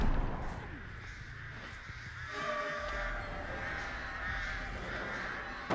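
Crows caw during the Artist's power in a video game, a faint call set inside a dense, hissing wash of game ambience with no talking.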